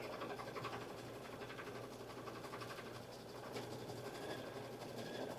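A Solaris sewing machine stippling a quilted jacket, its needle running in a steady, fast mechanical chatter with a constant motor hum, close and unbroken throughout.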